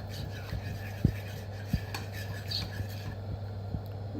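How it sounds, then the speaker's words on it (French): A spoon scrapes and knocks steadily around a pan of simmering cream sauce, with occasional sharper clinks over a low, constant hum. "je vais mélanger un petit peu pour bien mélanger le tout"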